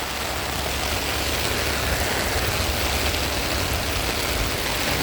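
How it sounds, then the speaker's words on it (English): Heavy rain pours steadily during flooding in the British Virgin Islands, making a dense, unbroken roar at a constant level throughout, with no voices. "It is raining a lot."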